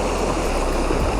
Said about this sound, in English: we're standing next to this waterfall. I'm gonna be casting into these rapids